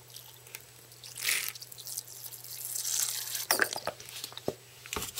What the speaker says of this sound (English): I'm just going to go ahead and start mixing in some water until I get the correct consistency